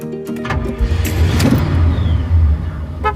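A car on a road trip rolls along with a steady, fairly loud engine and road rumble throughout, shifting slightly in tone, with no one talking.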